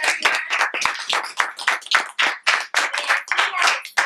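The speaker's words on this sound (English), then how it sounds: "Round of applause, everyone." An audience at a film event applauds the film's director, their claps coming in a fairly sparse, uneven patter that stays close and fairly loud throughout.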